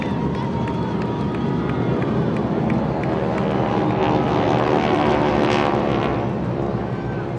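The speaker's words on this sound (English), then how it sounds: "That's our flight of T6s." A flight of T-6 propeller airplanes passing overhead at a Memorial Day event, a sustained loud engine drone with crowd noise beneath, swelling slightly midway before easing.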